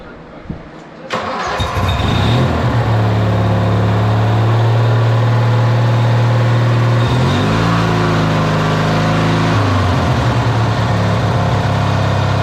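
A car engine cranks and catches after a steering repair, then idles steadily up close before a smooth rev rises and falls back to idle.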